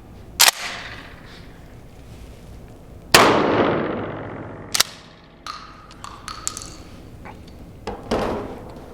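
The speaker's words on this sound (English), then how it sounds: "we'll go ahead and get started with number 8 shot on the Remington 870" Remington 870 pump shotgun firing number 8 birdshot outdoors: a handful of loud, sharp blasts spaced a couple of seconds apart, each with a ringing tail, plus lighter clanks and clicks between shots.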